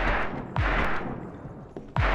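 Gunfire from a killer doll in the Perception video game: three loud, booming shots at irregular spacing, each with a thudding low punch and a lingering tail, with no talking.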